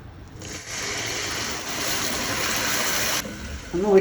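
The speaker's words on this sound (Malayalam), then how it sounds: "ശർക്കരയുണ്ട്. 2 മിക്സിങ്ങാണ്. കുറച്ച് വെള്ളം ഒഴിച്ച് കൊടുക്കാം." Water poured from a vessel into a pan of jaggery, a steady splashing gush lasting about three seconds, close and fairly loud, then cutting off abruptly.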